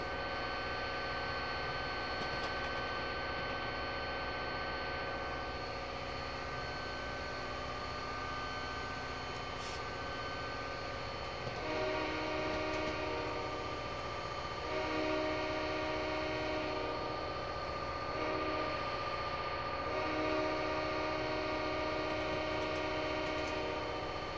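A freight train rumbles through Cajon Pass, a steady distant roar of rolling cars with droning engine tones that thicken midway, heard outdoors without talk.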